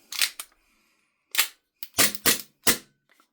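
Function check on a brand-new VFC SIG Sauer P226 airsoft pistol, early-model collectors edition: a quick pair of sharp clicks, a pause, then a run of four crisp metallic clacks of slide and hammer, close and loud.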